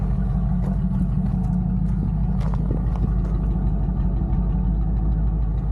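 A Chevelle with a new powertrain and a front end that shakes idles in place, giving a steady, deep, close rumble that holds even throughout, with faint clicks and taps over it and no talk.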